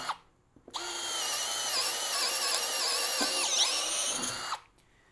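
Greenworks 24V brushless cordless drill driving a 1/2 inch titanium twist bit: a close, steady high motor whine under load lasting about four seconds, with slight pitch wavers, then spinning down to quiet.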